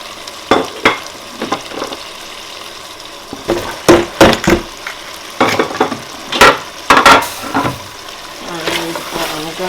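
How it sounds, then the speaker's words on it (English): Peppers being stirred into a sizzling beef mince sauce in a pan, with scraping and clattering stirs in bursts over a steady frying hiss, close and fairly loud. "So it is time for me to add my peppers."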